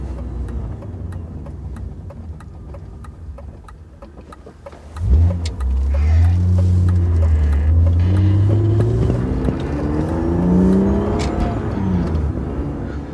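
A BMW E36 M3 in Techno Violet drives at sunset, engine droning low inside the cabin before a sharp rev and rising, climbing pulls through the gears, loud and close.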